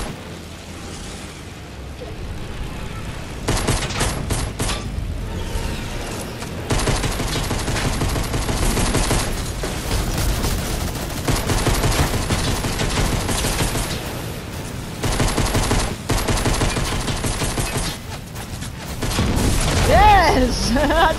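Repeated gunfire in Fortnite, including pistol shots, crackling in bursts and rapid volleys over game effects throughout, with a player's voice talking excitedly between and over the shots.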